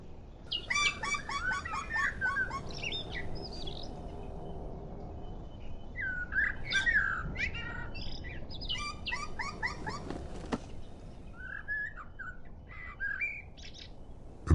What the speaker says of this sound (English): The pleading voice is that of a black woodpecker chick.